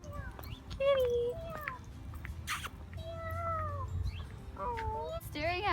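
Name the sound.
cat meowing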